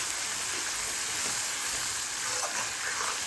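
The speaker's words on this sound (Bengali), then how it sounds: "এটা আমি এবার কষিয়ে দেবো।" Chicken meat with spices and salt being stir-fried in a pan for a Bengali kosha curry, a steady soft sizzle with faint crackles and scraping, continuous and close.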